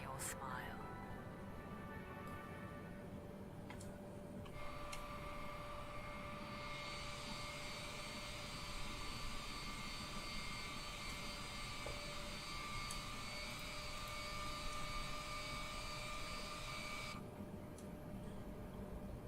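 Boeing 787-10 jet engines in Microsoft Flight Simulator during taxi to the runway, a steady whining hum with a rising high-pitched tone partway through, heard faintly and continuously.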